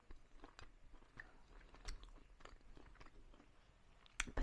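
Someone chews a piece of homemade bacon up close, with soft wet mastication and a few sharper crunching bites, quiet and irregular, growing a little louder at the end.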